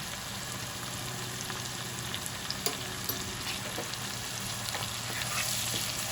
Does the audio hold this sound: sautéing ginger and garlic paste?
yes